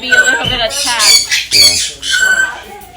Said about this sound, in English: Look at that pretty bird.